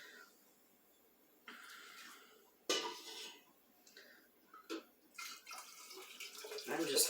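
Ham broth is poured into glass canning jars in short, quiet bursts of liquid splashing and trickling with a few clinks, spread out with brief gaps between them.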